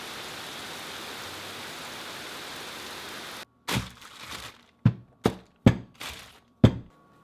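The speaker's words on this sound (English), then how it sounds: "Look at this rain." Steady rain falls outdoors, a dense even hiss for several seconds, then stops and gives way to a few sharp thuds and knocks spaced apart.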